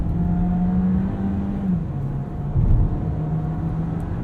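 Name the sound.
VW Taos car driving through roundabout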